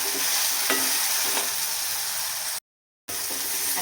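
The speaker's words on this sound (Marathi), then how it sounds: "आता कांदा आहे आपल्या तेलामध्ये छान ब्राऊन कलर होईल तळून घ्यायचा." Sliced onion sizzles in hot oil in a home kitchen pan while being stirred, a close, steady crackling hiss broken by a brief silent gap near the end.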